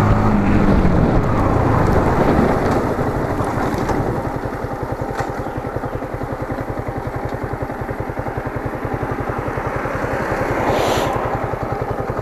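A Yamaha MT-15 motorcycle rides along with a steady, loud engine drone under heavy wind rush against the microphone, the pitch holding fairly even throughout with no one talking.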